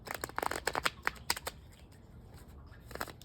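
Rapid riffling bursts of tarot cards being shuffled, a quick flurry of crisp flicks followed by a softer pause and a final few snaps.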